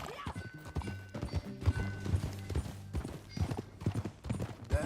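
Horse hooves clip-clop at a steady walking rhythm in the Red Dead Redemption 2 video game, fairly close and clear, with occasional speech in the background over a low ambient bed.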